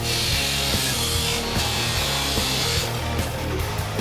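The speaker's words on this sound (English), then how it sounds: "They measure, then cut the legs and frame with a metal chop saw." Metal chop saw cutting steel legs and frame pieces, a loud continuous grinding whine with rough rhythmic chatter throughout, close by and without speech.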